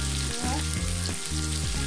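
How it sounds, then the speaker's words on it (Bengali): Onions fry in a pan for a prawn curry, a loud steady sizzle close up with a couple of brief stirring scrapes and no speech. "আমি মোটামুটি ভেজে নিচ্ছি পেঁয়াজটাকে।"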